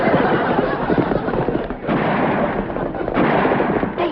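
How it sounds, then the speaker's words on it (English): Gunfire in a 1962 TV sitcom scene: a dense, loud burst of shots blending into one continuous roar, with slight breaks between volleys, filling the whole stretch. "They shooting at us."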